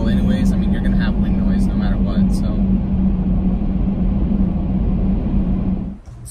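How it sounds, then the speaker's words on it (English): Steady, loud broadband rush of wind noise from off-road roof cross bars on a vehicle in motion, a constant road-and-air roar with low rumble throughout, dropping away abruptly near the end. "you're gonna have wind noise no matter what"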